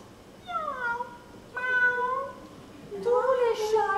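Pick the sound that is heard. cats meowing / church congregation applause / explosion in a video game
cats meowing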